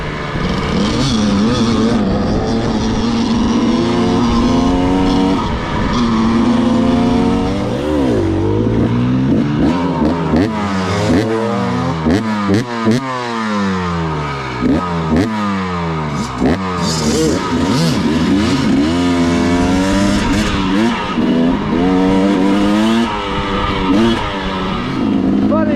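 A 300 dirt bike engine revs up and down repeatedly on a trail ride, its pitch rising and falling as it accelerates and shifts, loud and close throughout.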